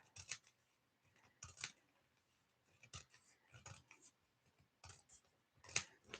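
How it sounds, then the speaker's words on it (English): Scissors snipping through scrapbook paper in a series of short, close, crisp cuts spaced about a second apart, with quiet pauses between the clipped strokes and no talk. "So I'm just going to trim it off."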